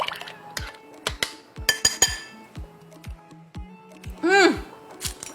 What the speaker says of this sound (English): We'll just kind of whisk it all together.